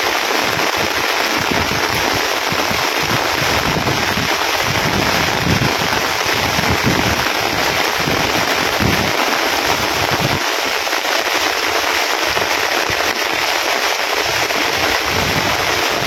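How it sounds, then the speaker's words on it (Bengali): Heavy rain pours without pause beside a river, a dense, loud, unbroken wash of drops that holds steady throughout, with no voices. "থামছে না বৃষ্টি, চলছে বৃষ্টি চলছে"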